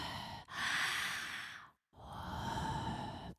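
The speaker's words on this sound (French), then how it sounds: "Expire, bouche ouverte." A person in a prenatal yoga session breathes out through a wide-open mouth in two long, steady, breathy exhales separated by a brief silent pause, close and alone with no talking.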